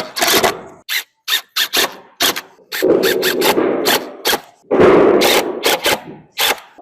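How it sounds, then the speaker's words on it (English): Drywall screws driven into laminated OSB with a power driver, a string of short, loud rasping bursts separated by brief pauses, some quick and some longer, close by and without talk. "I'm just going to fasten them down with some drywall screws"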